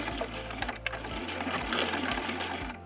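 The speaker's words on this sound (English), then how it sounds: "I'm going to make sure to back stitch" Sewing machine back stitching a fabric bin, a quiet close mechanical whir with short stop-start bursts and a few light clicks as the stitching reverses.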